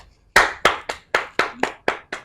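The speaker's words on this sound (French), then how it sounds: "Je vous applaudis." A single pair of hands claps eight times in a steady, fairly slow rhythm, each clap sharp and close, with no voices around it.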